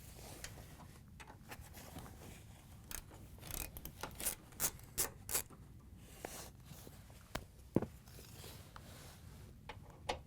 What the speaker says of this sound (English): We're going to use a 1/4-inch socket to remove them.